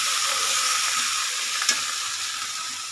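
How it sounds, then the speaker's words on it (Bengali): Vegetables for milk shukto sizzle steadily in a pan as coriander and spice paste is stirred through, with a single soft scrape near the middle and no talking. "ধনে দিয়ে আমি মশলাটা ভালো করে সবজির সাথে মিশিয়ে নেব"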